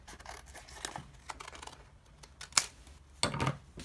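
Scissors snip paper circles in half, producing quick close crisp cuts and rustles in small irregular bursts, soft overall and heard alone.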